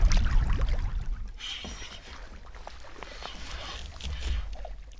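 A canoe paddled across a back country lake gives soft splashes and drips of water from paddle strokes, with a thump near the start and quiet gurgling throughout, close by and fairly faint.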